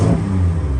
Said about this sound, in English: Sounds like the motor's knocking.